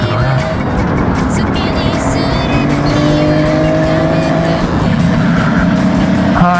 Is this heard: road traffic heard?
yes